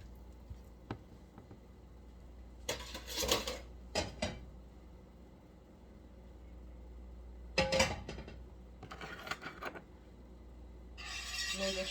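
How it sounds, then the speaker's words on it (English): A knife spreading butter on bread, with intermittent close scraping strokes in short bursts separated by quiet pauses. "Making sure my butter spread."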